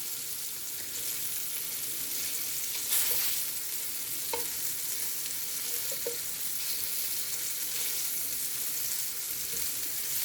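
Beef pieces browning in a hot pan for a stew, a steady moderate sizzle running for about ten seconds with a few soft clicks and scrapes as the pieces are rolled over, no talking.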